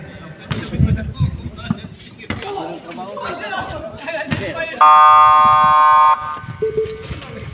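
A loud electronic buzzer blares for about a second and a half at a basketball game, cutting through crowd chatter, shouts and ball bounces that continue before and after it.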